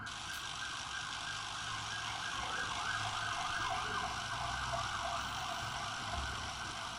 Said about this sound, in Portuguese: A ambulância.